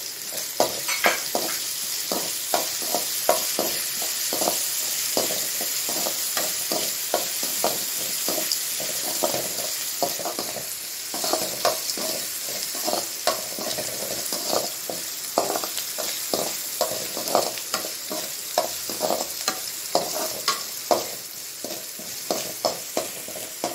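Onions sautéing in a pan for a ponnanganni greens and egg stir-fry, giving a steady close sizzle broken by frequent scraping stir strokes throughout, with no voices.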